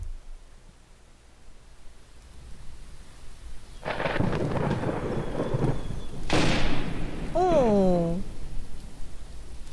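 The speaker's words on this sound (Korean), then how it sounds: "근데 왜막 폭풍우 치는 그런 날이네?" Stormy weather in the pixel-art rhythm game Songbird Symphony: two rumbling thunder crashes over soft rain, followed by a short run of chirpy bird-like calls.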